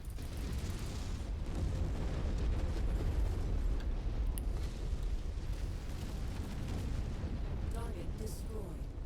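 Video game artillery fire and explosions rumble and crackle in a dense, continuous wash throughout, with a few sharper bursts late on.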